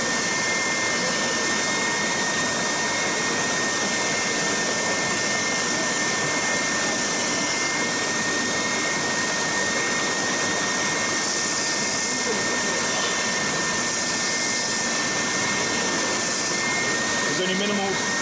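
A Triton TSPST450 450W oscillating spindle and belt sander runs continuously, giving a loud, steady roaring whine up close as wood is sanded. A voice talks faintly under the machine noise.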